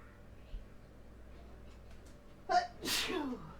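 A single sharp human sneeze bursts out close and loud after a quiet stretch, a quick intake followed by the explosive release and a trailing breathy tail.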